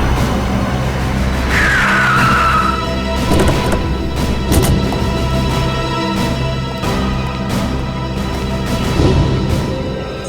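Car losing control, a sharp tire screech then skidding, with engine rumble and impact-like thuds against a wall, fairly close and loud.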